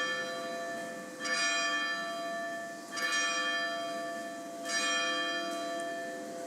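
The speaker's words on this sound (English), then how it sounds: "Let's let the bells ring." Church bells ring in slow, resonant strikes, three bright peaks about every two seconds over a sustained humming wash of overtones, moderately distant and alone without voices.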